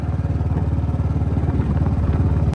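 A motorcycle engine putters steadily nearby on a cold ride, its low, regular firing pulses running throughout without any voices.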